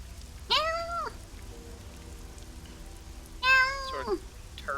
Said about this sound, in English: I hear a cat coming from over there.